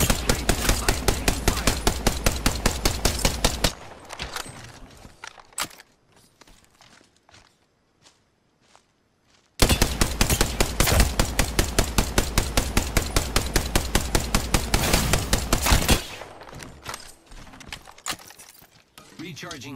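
Rapid automatic gunfire from Apex Legends, loud and close in two long sustained bursts of evenly spaced shots, separated by a quieter stretch of scattered softer pops and movement, with more shots trailing at the end.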